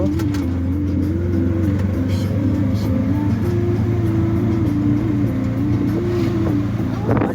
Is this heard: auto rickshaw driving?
yes